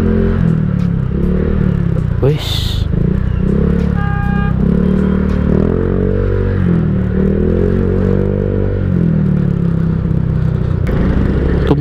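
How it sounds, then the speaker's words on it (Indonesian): A motorcycle fitted with a copy CMS aftermarket exhaust rumbles and growls loudly up close while creeping through stop-and-go midday traffic on the way to Tangerang, its deep throbbing note rising and falling with throttle, with a brief rider utterance. "Motor gue kalau macet tuh ngegerung, jadi kayak kedengeran banget nih suara nih."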